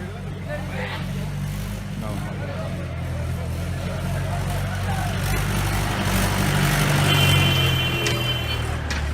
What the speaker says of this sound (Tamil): இப்போ டிராக்டர்னு வருது